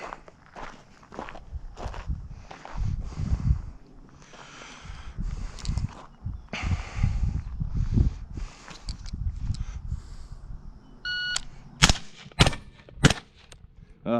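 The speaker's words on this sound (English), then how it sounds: "Let's see if it's registering all 3 shots." A shooting drill on a range with footsteps and movement for most of the stretch, then a close burst of sharp, loud gunshot cracks near the end, several in quick succession, with no talking.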